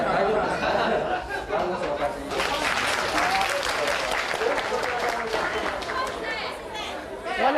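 A crowd in Okinawa watching a snake and mongoose fight cheers and claps, with dense applause and excited chatter building into a sustained roar, with voices mixed throughout.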